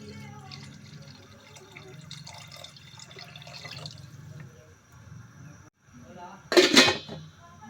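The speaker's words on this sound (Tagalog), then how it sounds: "ilagay natin ang tubig" Water splashes and pours into a cooking pot for balbacua in a short loud burst near the end, after a stretch of quieter kitchen clatter and talk.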